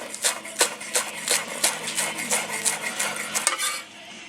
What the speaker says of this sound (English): Just run your knife right through it.